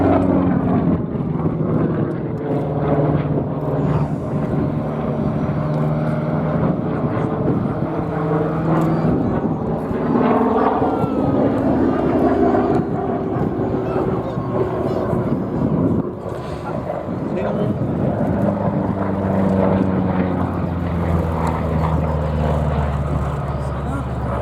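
A P-47 Thunderbolt fighter drones overhead with a loud, continuous piston-engine roar that swells and fades slowly. A narrator talks over the engine throughout.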